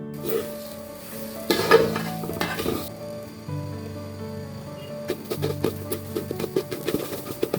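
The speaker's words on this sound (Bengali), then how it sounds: "আর একটা চুলায় পোলাও চাউলটা ভেজে নিচ্ছি ভালো করে" Pulao rice fries in a pan on a stove with soft sizzling, broken by scraping stirs and light clinks of a utensil against the pan, fairly quiet and close.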